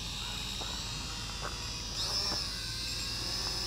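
SJRC S30W GPS drone taking off automatically in the desert, a steady high-pitched whine and buzz of its motors that rises slightly in pitch partway through, heard nearby.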